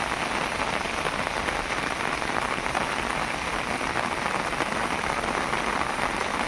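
Heavy monsoon rain in the Konkan pours down steadily, a dense, unbroken hiss of drops drumming on surfaces with no other sounds.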